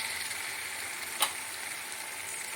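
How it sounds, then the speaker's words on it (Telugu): Tomato pieces frying in a pan for a tomato pickle give a steady, close sizzling hiss, broken once by a single sharp click midway. "బాగా వేగి దగ్గరకు వచ్చేసినాయి టమాటా ముక్కలన్నీ"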